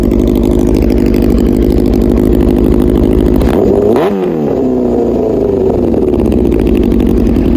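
A loud, raspy motorcycle engine with a nearly straight-pipe 4-into-1 exhaust idles steadily, with a brief throttle blip and revving midway before settling back to a rough idle.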